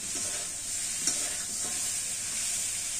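Onion and chilies stir-fried in a pan while cooking a mutton curry, a continuous close sizzle with one sharp spoon tap and light scraping, no speech.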